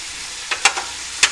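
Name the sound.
stirring capsicum and cabbage in a frying pan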